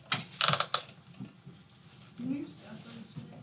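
Calculator keys are pressed in a quick burst of light plastic clicks near the start, followed by a voice talking over faint, sparse taps.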